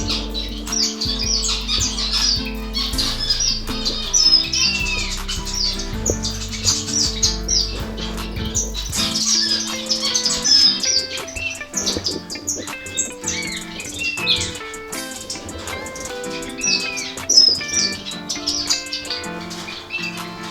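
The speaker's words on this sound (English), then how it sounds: "Down here I have the Gouldians." Gouldian finches chirp and squawk in an indoor bird room, a dense, steady chorus of close and overlapping tweets and calls running throughout with no talking.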